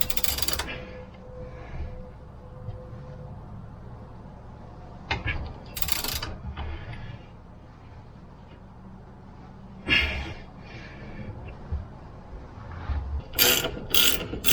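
A ratchet tightens the front axle nut on a CFMOTO ZForce side-by-side, giving short bursts of rapid clicking spread across the clip. Faint metallic handling sounds fill the quieter stretches between bursts.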